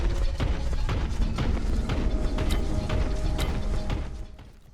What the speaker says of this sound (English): I love the walk sound of our Space Marine, because it makes us feel powerful and invincible.